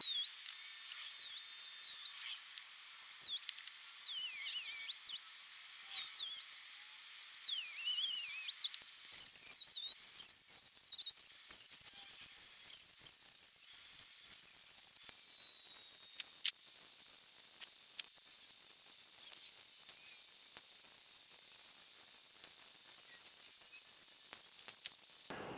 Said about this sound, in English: for the bottom, I'll probably just use a regular cutoff wheel